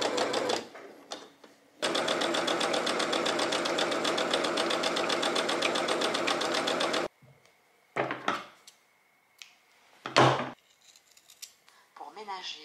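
A sewing machine stitches a winter jacket in a long, fast, rhythmic run, then stops; afterwards come short bursts of stitching and handling noises in a quiet room.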